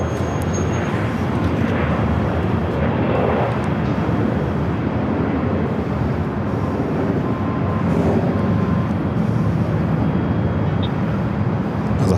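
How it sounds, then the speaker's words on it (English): A British Airways Boeing 777-300ER jet from London Heathrow arriving at LAX on the south side, a loud continuous engine roar that holds steady throughout with no talk. "British Airways flight 283 coming up from London Heathrow, 777 to 300 ER, number 2 for arrival on the south side."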